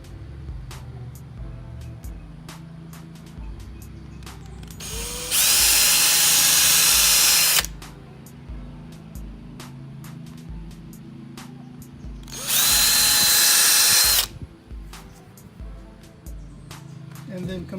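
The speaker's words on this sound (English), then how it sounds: "I'm going to make some pilot holes." A power drill with a small bit bores pilot holes while fitting a front air dam to a Datsun 280Z, two loud sustained whirring bursts of about two seconds each over quiet workshop background.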